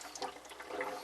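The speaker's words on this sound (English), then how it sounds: "So let's go ahead and dump that in the drain." Water from a reverse osmosis filter test sample dumped down an RV sink drain, a short splashing, gurgling pour heard close up with no talking.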